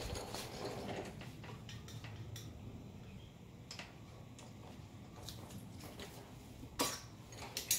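A screwdriver scrapes and clicks against metal while prying the exhaust baffle out of a Honda Nighthawk 250, giving irregular faint taps and sharp metallic knocks near the end, with no talk.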